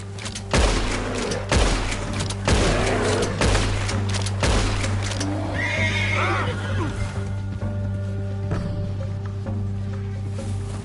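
A horse neighs and snorts amid loud rumbling thumps and storm-like crashes in the video game Red Dead Redemption 2, with a brief voice in the background; the scene settles into a low hum.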